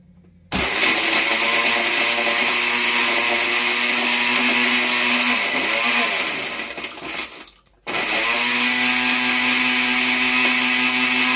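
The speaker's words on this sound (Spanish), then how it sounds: "Procedemos a licuar." A countertop blender whirs steadily while blending a mango colada cocktail, running loud and continuous, dropping out briefly near the end, then starting again at full power.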